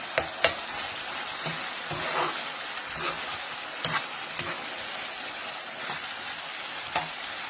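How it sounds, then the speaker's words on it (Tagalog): Homemade pindang babi, a sweet pork tocino, fries in a pan with a steady bright sizzle, broken by occasional louder pops and scraping stirs, close up and with no talking. "Ipa-fry pa natin konti."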